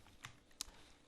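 Two soft, isolated keystrokes on a computer keyboard, quiet and spaced apart against a faint room hush.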